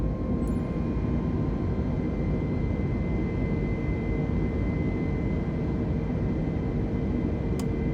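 A320 jet engines climbing after takeoff in Microsoft Flight Simulator give a steady, loud, broadband roar with a low rumbling core that holds unchanged throughout, with no voices.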